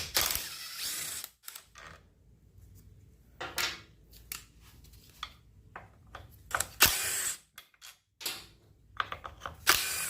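A ratchet works the crankcase bolts loose on a Briggs and Stratton 27hp V-Twin engine, giving repeated close bursts of sharp clicking separated by short pauses, with no talking.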